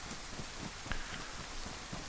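Steady rain falls in the survival game DayZ, a soft continuous patter without talk.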